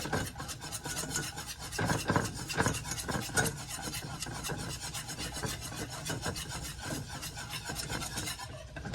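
A whisk scraping steadily against a bowl as a country gravy mixture is beaten smooth, a continuous rapid rasping rub with no pauses, close and fairly loud, with no voices.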